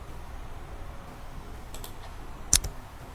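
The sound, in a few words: pressing the Enter key on a computer keyboard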